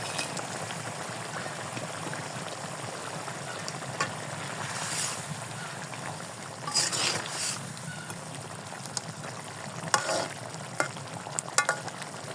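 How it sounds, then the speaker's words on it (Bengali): Fish poured into a pan of nearly cooked potatoes for Bengali fish curry, frying with a steady soft sizzle and occasional louder bursts of spattering and stirring. "এখন আমি মাছটা ঢেলে দিব।"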